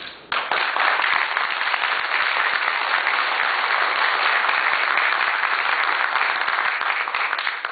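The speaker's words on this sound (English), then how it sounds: "We're going to try to keep applause to a minimum during the actual debate." An audience at a Republican U.S. Senate candidates' debate in Enfield, Connecticut breaks into sustained applause, dense clapping that starts abruptly and holds loud and steady for several seconds.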